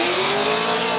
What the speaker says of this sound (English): Sounds a lot more healthy of an exhaust note here on the second run.